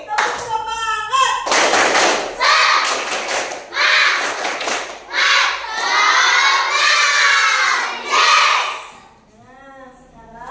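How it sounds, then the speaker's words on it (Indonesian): Schoolchildren in an Indonesian elementary classroom perform the tepuk semangat clapping chant, loud rhythmic group claps mixed with shouted chanting in a steady pattern, with a teacher's voice briefly around it. "Sekali lagi, tepuk semangat."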